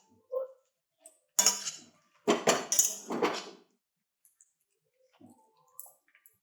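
Eggs being stirred into chowmein in a pan, heard as a few short bursts of scraping and clattering utensil strokes separated by near silence, close and moderately loud.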